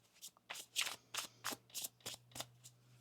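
Soft, close riffling of a tarot card deck, a series of quick brushing shuffles in a steady rhythm, quiet with no talking.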